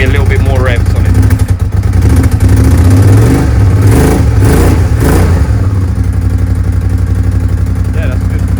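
A close Suzuki SV650S motorcycle engine revs up in a couple of surges around the middle, then settles back to a steady idle; a voice speaks briefly over it.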